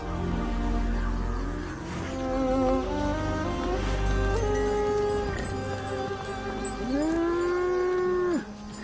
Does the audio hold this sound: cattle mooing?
yes